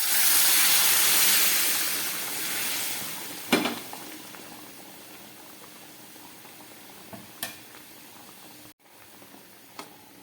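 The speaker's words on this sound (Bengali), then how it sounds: "এবার দিয়ে দিচ্ছি এর মধ্যে উষ্ণ গরম জল।" Warm water poured into a simmering fish curry, giving a loud rushing boil and hiss at first that settles into a quieter bubbling simmer, broken by a few sharp clinks and knocks.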